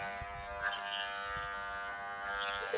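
Electric hair clippers buzz steadily while cutting hair close by, a continuous motor hum with small shifts in pitch as the blades move across the head.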